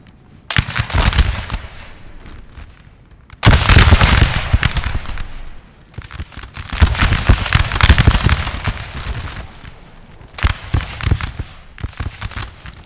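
Musket volleys and artillery fire from a Napoleon Total War battle recreating Lundy's Lane in 1814. Loud, rattling bursts of massed gunfire break out in waves, with heavy booms and short lulls between them.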